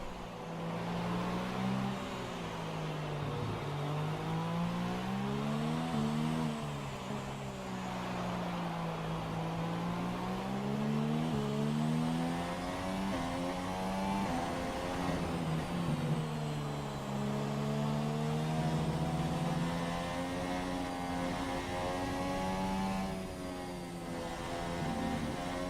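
Formula One racing car in a video game lapping on intermediate tyres at the Mexico circuit, its engine droning steadily and loudly throughout, pitch rising and falling with gear changes and corners.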